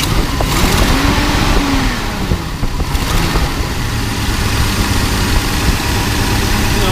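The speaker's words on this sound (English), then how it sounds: "Go ahead and rev it up real slow." A 1975 International Harvester engine runs loud and close, its low rumble rising slowly as the revs climb gently, then holding fairly steady.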